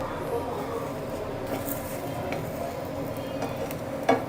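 A fluffy omelette cooks in a pan as butter is added along its edge, giving a soft continuous sizzle with light stirring scrapes and a small clink near the end.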